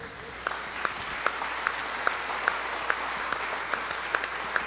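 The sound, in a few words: audience applause at state fair sale of champions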